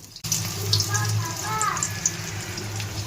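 Prawn fritters (bora) frying in a pan, giving a soft steady sizzle under a voice, with a few faint clinks, close and fairly quiet.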